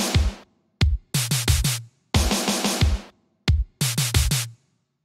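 Programmed snare drum pattern from the FL Studio step sequencer, loud sharp hits in short bursts with gaps between them, each hit panned to a different side so the pattern shifts from left to right.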